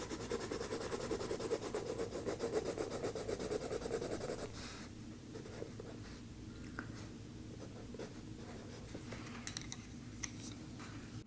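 Colored pencils scratching across sketchbook paper, heavy dense scribbling for a few seconds, then lighter, softer strokes and occasional taps, close and quiet with no voices.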